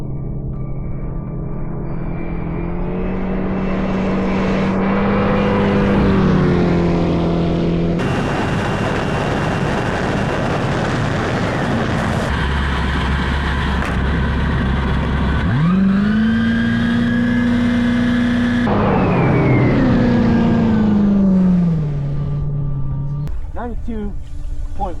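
A turbocharged LS V8 jet ski accelerates hard from cruising toward top speed, a loud rising engine drone climbing in pitch in several surges, with wind and water rush and people talking over it.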